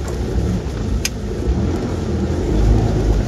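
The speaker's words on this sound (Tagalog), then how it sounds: "So, pasok ang ating sasakyan." A car rolls in through the entrance of a rural property of about two hectares, its engine a low rumble that builds slightly toward the end, heard close and without talk.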